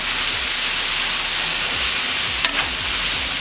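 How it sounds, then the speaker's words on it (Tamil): Onions frying in hot oil with turmeric and spices, a loud, close, continuous hiss and sizzle with faint stirring scrapes and one brief clatter, no talking. "வெங்காயத்தை நல்லா ஃப்ரை பண்ணிடுவோம்."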